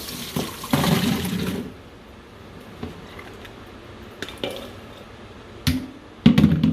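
Water from a pot of diced potatoes pours out and splashes in a kitchen sink. The splashing comes in a loud burst near the start, then settles into a low trickle before surging again at the end.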